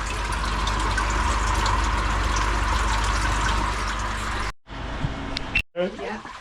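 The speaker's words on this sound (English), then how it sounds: "This is water's just seeping through here, through the dirty bit at the bottom of the screen." Pond water draining and seeping through a clogged filter screen in a garden pond filter system, a steady trickling, gushing flow for several seconds before it cuts out, followed by brief handling clatter and faint drips.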